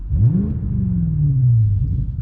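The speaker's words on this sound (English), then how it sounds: "my AWE track exhaust. And you see me smiling. It puts a smile on my face every time I hear it" A 2018 BMW M5 with an AWE track exhaust revs loud and deep, swelling and holding, a throaty exhaust drone rising then easing off, close by with no talking.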